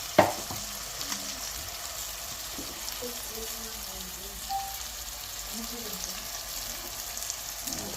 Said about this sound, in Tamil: இது நல்லா இப்போ வந்து பொன்னிறமாக வதங்கி வருது